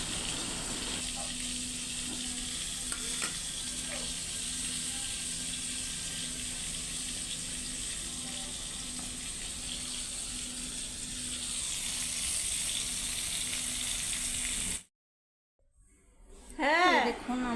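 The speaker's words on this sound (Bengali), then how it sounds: "তারপরে আমি পটল ভাজাটা তুলে দিয়েছি" Sliced pointed gourd (potol) fries in a home kitchen pan with a soft, steady sizzle over a low hum. The sound cuts out near the end, and a brief voice follows.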